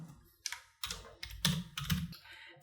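Keys clatter on a computer keyboard as a node is renamed in DaVinci Resolve, with a few separate bursts of typing and short pauses between them, close and fairly quiet.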